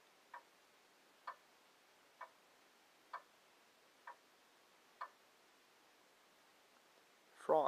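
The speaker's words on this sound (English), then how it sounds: "Grandfather clock." A grandfather clock ticks from a relaxation sounds app: six soft, evenly spaced ticks about a second apart over faint hiss, ending with a brief rustle.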